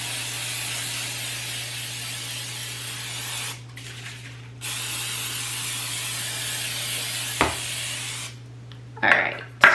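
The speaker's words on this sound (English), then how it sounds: "First, I'm gonna spray them real good because I'm not putting liners." Cooking spray is sprayed into unlined muffin tins for pumpkin muffins, producing a long, steady hiss that pauses briefly. A few shorter bursts and a clatter of metal pans follow near the end.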